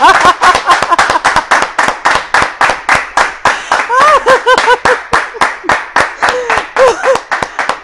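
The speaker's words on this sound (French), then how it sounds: "ce sont les applaudissements des femmes" Women in a TV studio audience clapping in unison, loud, regular rhythmic claps about three per second, with scattered laughter and voices mixed in.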